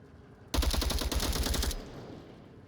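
Rapid bursts of automatic gunfire from the VR shooter Onward during a competitive Challenger Cup match, a loud, dense string of shots lasting over a second before cutting off to a quieter tail.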